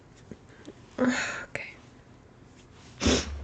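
A close, breathy sneeze near the start, then a second one a couple of seconds later, with quiet sniffing sounds in between.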